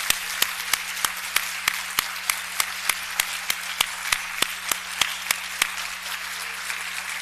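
An audience at a graduate student white coat ceremony applauds friends and family, a steady bed of crowd clapping punctuated by sharp, evenly spaced claps that stand out close by.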